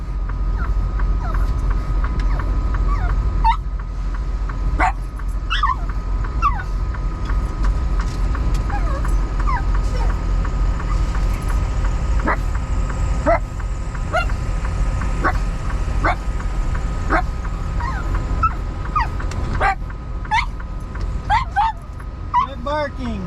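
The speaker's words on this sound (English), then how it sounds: "Barking." Frankie the dog barks and whimpers inside a moving truck cab, scattered sharp yips and barks over a steady engine rumble, with people talking intermittently.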